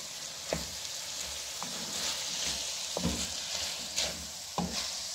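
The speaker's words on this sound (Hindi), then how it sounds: "हम इसको अच्छी तरह भूनेंगे तो बहुत टेस्टी कीमा मिर्च बनते हैं" Minced meat with julienned green chillies frying in a pan, a steady dense sizzle with scattered sharp clicks and scrapes of stirring repeating every second or so, close and alone without talk.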